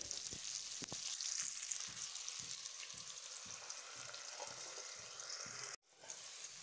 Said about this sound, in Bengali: পেঁপেটা ফ্রাই হওয়ার সঙ্গে সঙ্গে যেন তাড়াতাড়ি সিদ্ধ হয়ে যায়